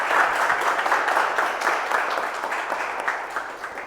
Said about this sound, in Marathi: परत एकदा टाळ्या वाजवूया सगळ्यांनी.